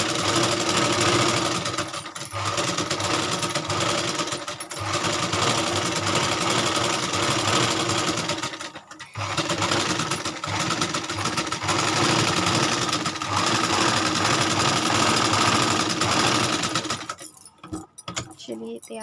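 Sewing machine stitching suit fabric runs loud and steady almost throughout, pausing briefly near the middle and stopping toward the end.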